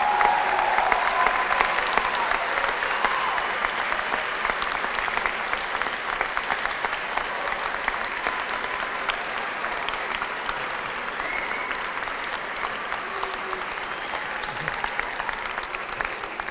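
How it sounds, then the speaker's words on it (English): A large crowd in an auditorium at a spring commencement applauds families, sustained broad clapping that rolls on evenly and slowly thins out, with no speech. "So would you please get up now and applaud all of them"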